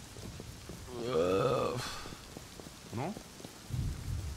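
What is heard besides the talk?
thunderstorm with rain in a video game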